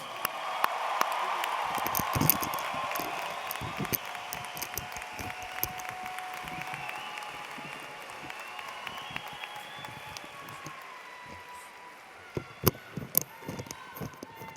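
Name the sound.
graduation audience applause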